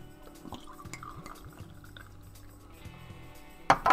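Scottish Export beer pours into a glass, a quiet close trickle with small glugs, rising to a louder fizzy splash near the end.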